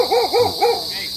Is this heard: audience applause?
no